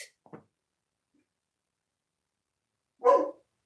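Dog barking once, a single short clear bark near the end after a couple of faint brief sounds and near silence.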